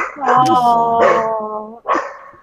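A corgi barks in quick, loud yips close by, three sharp bursts with a whining tone and no talking.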